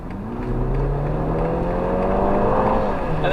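A police car's engine climbs in pitch as it accelerates hard out of a left turn, a loud, close, rising drone heard from inside the cabin.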